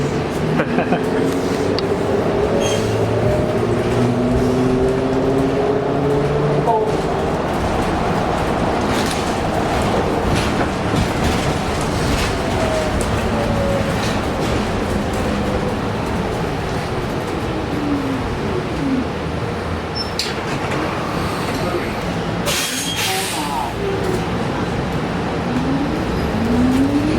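A 2015 New Flyer Xcelsior XT60 articulated trolleybus on San Francisco Muni route 30 carries a steady low electric motor whine with faint rising and falling tones. It sits under constant cabin rumble and road noise, with some faint chatter throughout.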